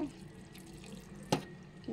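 Water poured into a blender jar holding boiled chana dal for halwa gives a steady close splashing trickle through the short moment, with a brief sharper splash near the end.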